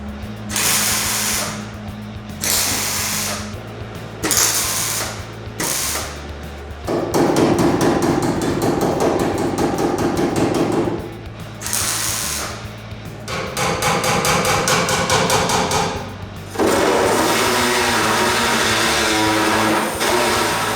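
Tack welding a patch panel onto the torque box of a 1971 Camaro, heard as a run of loud, crackling welder bursts of several seconds each, separated by brief gaps, close and with no talk.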